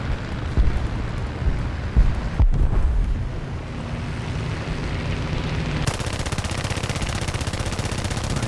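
Aircraft machine guns rattle in long continuous bursts in War Thunder arcade air combat, a dense loud chatter over engine drone that shifts to a steadier, faster stutter near the end.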